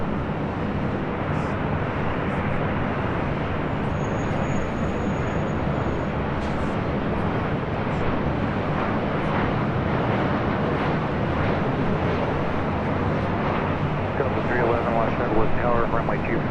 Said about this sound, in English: we have the Southwest